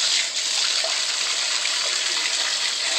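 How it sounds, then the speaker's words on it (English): A hyacinth macaw has turned on a tap indoors, and water runs from it in a steady, loud, hissing gush that lasts the whole stretch, with no voices over it. "You keep turning the water."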